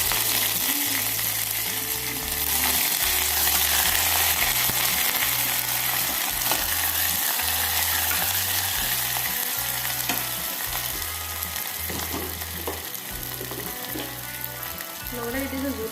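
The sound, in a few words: frying chopped onions with bay leaves and dried chillies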